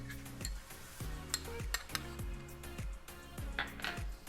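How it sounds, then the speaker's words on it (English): A spoon works pizza sauce across a dough base out to the edges for an arugula, mushroom and ricotta pizza, giving soft repeated scraping and wet smearing strokes at close range in a quiet setting. "And then using our spoon, we're gonna work it all the way to the edges."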